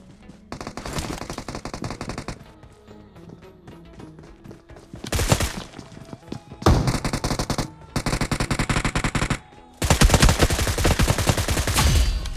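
Bursts of automatic gunfire in the BGMI battle royale game come in several loud, rapid volleys separated by brief pauses, close and dense, with no speech.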